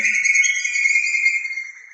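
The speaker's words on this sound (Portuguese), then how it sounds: "Os pássaros estão se manifestando, dizendo que gostaram muito do exercício." Outdoor birds give a bright, sustained whistling chirp with a couple of steady high tones. The song is loud and close, holds for about two seconds, then fades slightly at the end, with no talking over it.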